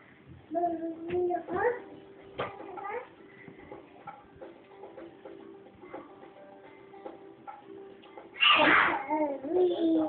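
A baby sneezes once, sharply and close, near the end after quiet babbling and small household sounds, with a voice heard earlier.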